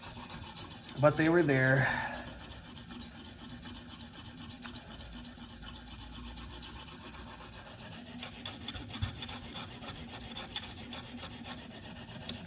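A Spyderco PM2 blade in S35VN steel is drawn across a stone on a KME guided sharpener, starting with a short burst of rasping strokes and followed by quieter, intermittent scraping, heard close up with brief speech.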